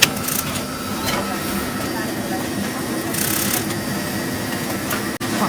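A sewing machine stitches elastane fabric while a zipper is being set in, giving a steady, close mechanical whir that runs without a break and stops abruptly near the end.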